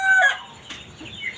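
Chinese Silkie chickens of the partridge variety in a backyard farm, giving a few close, bright clucks and short calls with brief pauses between them.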